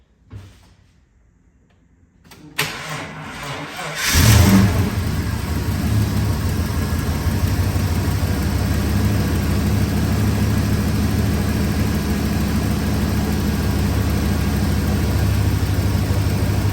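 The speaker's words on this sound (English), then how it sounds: "Let's start it up, let it run a bit, and then we'll check it." A car door thunks, then an engine cranks and catches around four seconds in, settling into a steady, loud idle that continues to the end.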